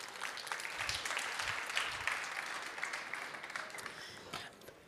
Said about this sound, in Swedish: Så ge honom en varm applåd så att han känner sig välkomnad.